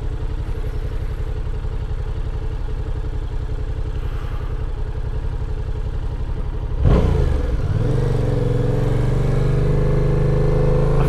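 A motorcycle ridden on laps for the scenery hums steadily at a near, even engine note, then surges into a louder, rising rev partway through and holds a stronger drone afterward.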